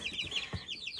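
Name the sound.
chickens (hens) clucking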